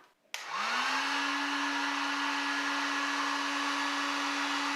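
Harbor Freight Warrior heat gun switched on to its high setting: a click, then a loud, steady blowing whir with a constant motor tone that holds alone without talk.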